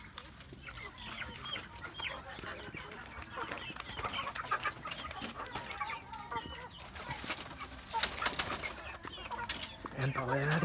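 Free-range chickens, including Rhode Island Reds, Ayam Cemani and Brahmas, cluck and chatter repeatedly outdoors at moderate distance, with occasional louder calls and faint talk in the background.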